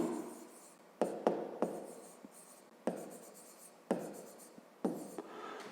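A pen writes on paper up close, quick scratchy strokes in short bursts with sharp taps as the tip touches down, separated by brief pauses, no talking.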